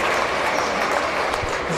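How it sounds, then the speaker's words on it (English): A basketball crowd applauds steadily as the starters leave the game, a dense, continuous round of clapping filling the gym at close range with no talk over it. "As the starters leave to a round of applause."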